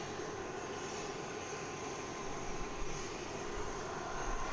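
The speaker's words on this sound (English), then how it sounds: "It does sound like that Dash 8 has either started up its engines or is beginning the process to start up its engines" Dash 8 turboprop engines spool up at Christchurch Airport, New Zealand, a steady broadband roar and whine heard at a distance across the apron, constant and moderately faint with no talking.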